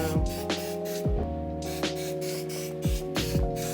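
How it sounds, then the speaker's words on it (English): Several short hissing bursts of a butter spray can, evenly spaced, close by against a steady background hum. "I put a little bit of butter spray on them."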